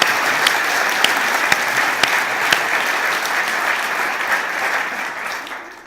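An audience claps at a business interview event, a dense, steady wash of applause lasting several seconds before tapering at the end.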